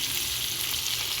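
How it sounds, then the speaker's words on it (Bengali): Onions frying in hot oil in a wok while a pumpkin and egg dish is cooked, giving a steady, loud, close sizzle that holds level throughout with no voices. "তারপর আমি কড়াইয়ে তেল দিয়ে পেঁয়াজ দিয়ে দেব"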